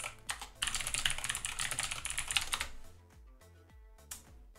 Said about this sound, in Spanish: cómo escribes el teclado de locos